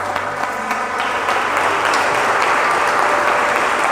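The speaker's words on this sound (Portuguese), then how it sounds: "Você pode aplaudir o Senhor?" A church congregation applauds the Lord during a Tuesday celebration service, a dense, steady wash of many hands clapping at once, loud and close, holding evenly throughout without a break.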